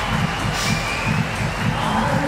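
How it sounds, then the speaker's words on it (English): Loud, steady crowd roar filling a climbing arena during the Innsbruck 2024 lead semi-finals, a dense wall of cheering and noise with rhythmic low pulses underneath, unbroken for the whole stretch. "Absolutely deafening from the crowd."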